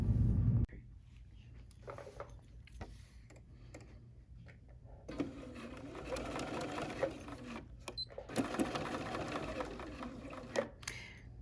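A Bernina sewing machine stitches around the rounded edge of a fabric bear's ear in bursts of rapid rhythmic ticking and whirring, separated by pauses and handling clicks, close and moderately loud.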